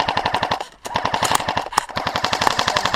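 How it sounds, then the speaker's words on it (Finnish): Rapid automatic gunfire in a first-person shooter game, steady bursts of sharp repeated shots with a brief pause near the start, loud and close with no talk over it. "Ketä mä ampun Niko?"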